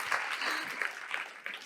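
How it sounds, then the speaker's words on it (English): A brief burst of applause from a women-in-business conference audience, dense and moderately loud, lasting under two seconds. "I just want to start off by giving you guys a hand of applause"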